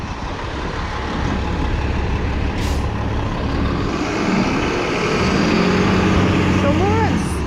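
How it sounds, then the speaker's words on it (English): Busy northbound traffic on Yonge Street near the Lawrence intersection rumbles close by, with heavy truck engines droning, a brief air-brake hiss, and rising engine tones from passing vehicles throughout. "Traffic on Yonge Street heading north."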